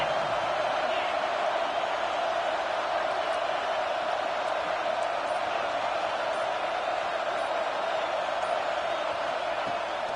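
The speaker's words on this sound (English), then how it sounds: "this crowd trying to help keep them there" Stadium crowd in NCAA 26 football during a BYU versus Texas A&M game, a constant loud roar of massed cheering that holds steady throughout.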